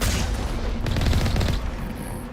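Rapid bursts of automatic turret gunfire in the Mass Effect video game, a dense loud volley that swells midway and then thins out, with no talking.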